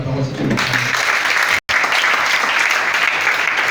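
A church congregation applauds loudly and continuously during a sermon, with a brief dropout midway; voices can be heard mixed into the clapping.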